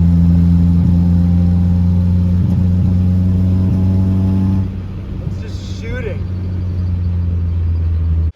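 A Honda Civic engine idles with a steady low hum and slightly uneven pulsing, suspected of off ignition timing, close and fairly loud; the tone shifts midway as the surrounding noise changes, and a brief voice is heard.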